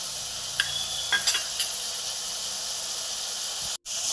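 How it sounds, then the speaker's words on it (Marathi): Mixed vegetables and ground spices, including pav bhaji masala, cumin powder and red chilli, sautéing in a pan for masala pulao, giving a constant bright hiss with a few quick stirring clinks early on. "सर्व भाज्या व हे घातलेले सर्व मसाले परतून घ्यावेत तीन ते चार मिनिट सर्व भाज्या परतून घ्याव्यात"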